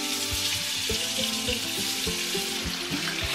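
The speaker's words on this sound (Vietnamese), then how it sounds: "Bây giờ mình sẽ cho phần sườn heo vô để mình chiên luôn." Pork ribs fry in hot oil, a continuous fine sizzle and crackle with some watery bubbling, fairly quiet and without speech.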